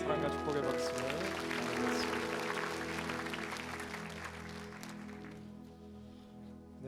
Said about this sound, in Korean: 서로를 향해 사랑과 축복의 박수를 보내겠습니다.